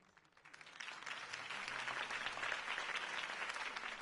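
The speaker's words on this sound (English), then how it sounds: "If only Mr. Wayne, my campaign's largest backer, could have heard that applause" In the game Telltale Batman, a crowd breaks into steady applause that swells quickly and holds, a dense wash of clapping heard from a moderate distance.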